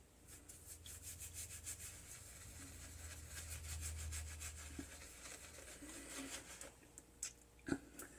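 A shaving brush works lather from a Boots shave stick on a face, giving a soft, continuous scrubbing rub close by, faint and steady with a few small taps near the end.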